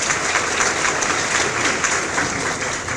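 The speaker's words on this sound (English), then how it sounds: "A round of applause for our Gaston County Schools Service Provider of the Year, Betty Blanco." Sustained audience applause at a school district awards evening honoring a Service Provider of the Year, thick and even clapping from a large crowd lasting throughout, moderately loud and alone.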